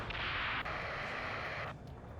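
A rocket explosion in the combat game Ace Combat 7: a sudden hissing blast that sustains briefly, then cuts off, heard fairly faint with no talking over it.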